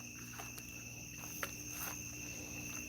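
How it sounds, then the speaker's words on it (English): Crickets chirp continuously in a quiet outdoor setting, a steady high-pitched trill with a few faint taps and rustles underneath. "I hear crickets."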